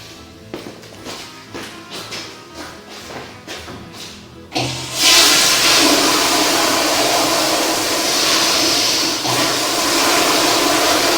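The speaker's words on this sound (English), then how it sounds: "I'm gonna flush the toilet right here and see what happens." Toilet flushed during a sewer line inspection: a few seconds of clunks and taps give way to a sudden loud, steady rush of water draining through the pipe, lasting several seconds.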